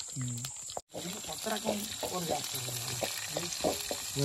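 Onions sizzle steadily in a frying pan for a village-style chicken fry, a continuous crackling hiss with voices talking over it.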